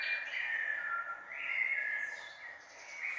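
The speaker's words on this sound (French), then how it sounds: "Écoutez ces oiseaux, écoutez cette nature." A faint, sustained bird whistle wavers and slides in pitch, sounding distant against a quiet outdoor background.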